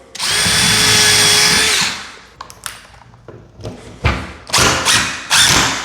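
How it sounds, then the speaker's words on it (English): A cordless drill drives screws into an RTA kitchen cabinet during assembly, with a loud sustained whine for about two seconds followed by several shorter, rising bursts punctuated by taps and thuds. "I make sure that I'm holding the drill perfectly plumb when I'm going in."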